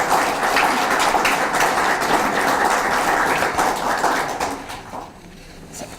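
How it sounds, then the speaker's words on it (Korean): An audience at a panel debate on Henry George and land rent reform applauds in a dense, even burst. The clapping fades out over the last second or so. "맞으면 박수 한번 보내주셔야죠."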